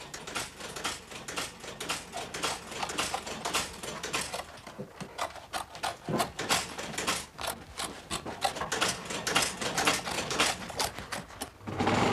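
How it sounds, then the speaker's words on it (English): Steady scraping and rasping as surplus flax webbing is trimmed away on a handmade leather saddle, a dense run of short close cutting strokes continuing without pause and with no voices. "Tom then trims away the surplus material."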